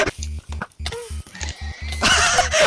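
A horse in the Minecraft video game neighs and whinnies loudly in quick repeated bursts, with game noise toward the end.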